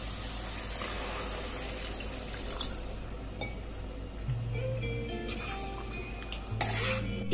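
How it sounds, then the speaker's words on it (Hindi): Half a glass of water splashes into a pan of frying potato curry, a gushing sizzle over continuous kitchen noise with light clinks of utensils. "आधा ग्लास पानी डाल देंगे।"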